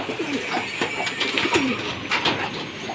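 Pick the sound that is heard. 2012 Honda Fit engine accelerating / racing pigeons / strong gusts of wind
racing pigeons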